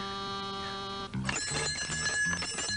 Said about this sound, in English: You hear bells, BJ?